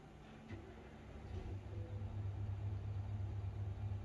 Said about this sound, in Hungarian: Ha rányomok arra, hogy Start Engine, akkor elindul a motor.